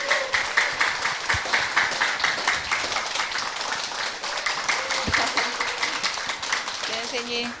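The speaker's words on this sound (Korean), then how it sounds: "여러분 박수로 환영해 주시기 바랍니다" An indoor audience claps to welcome a guest at a poetry talk event, a steady patter of applause heard under voices talking.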